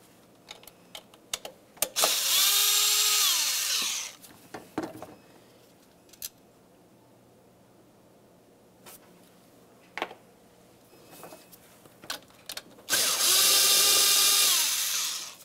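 On a 1998-2002 Lincoln Navigator, a power tool whirs in two loud, close bursts of about two seconds each, removing 8mm bolts, with scattered clicks and clanks of handling between them.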